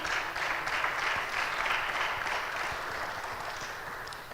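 Sustained audience applause at a women's advocacy rally, dense and steady for several seconds before slowly thinning.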